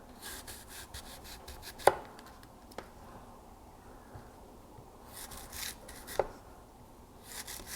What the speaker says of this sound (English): you can cut nice thin slices, you can cut thicker slices